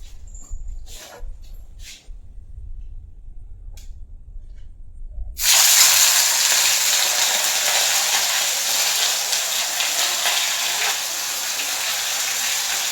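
Bhetki fish fries in hot oil for a home-cooked meal: after a quiet stretch with faint kitchen sounds, a loud, dense sizzle bursts in and holds steady, a close spitting hiss that fills the rest of the clip.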